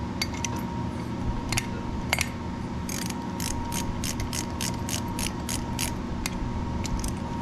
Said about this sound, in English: run them down actually with my ratchet in the socket, just so they're snug again